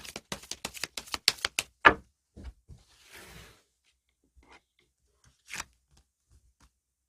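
Tarot deck handled to draw an advice card: a quick run of about a dozen crisp card flicks, then a soft shuffling rustle and a few isolated taps and one sharp snap, close in an otherwise quiet room.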